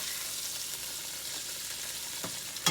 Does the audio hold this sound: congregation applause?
no